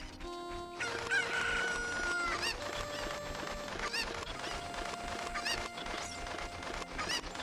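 Chickens in Zelda: Ocarina of Time, a rooster crowing clearly and hens clucking in a game scene over bright, steady background music, with no talking.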